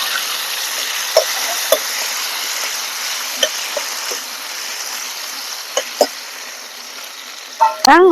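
Chopped tomatoes fry in hot oil for a village-style roti pachadi, making a steady, close sizzle broken by a few sharp spoon knocks against the pan and a brief clatter at the end.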